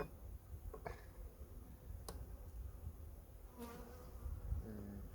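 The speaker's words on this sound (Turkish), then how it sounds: "Bu kadar bir arı var." Quiet, steady buzzing of honey bees at a hive with a few faint clicks and ticks scattered through, no voices present.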